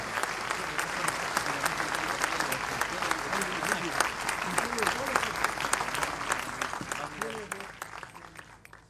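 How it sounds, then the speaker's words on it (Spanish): Strong, sustained applause from a large crowd at Chile's 2015 military parade, many hands clapping densely with a voice speaking over it, gradually tapering toward the end. "Los despedimos con un fuerte aplauso"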